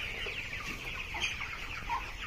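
A flock of 25-day-old broiler chickens on a farm, a dense constant chorus of soft clucking and cheeping close by, with no talk.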